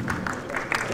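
A convention panel audience gives polite, scattered applause in a hall, a brief dense patter of clapping with voices mixed in.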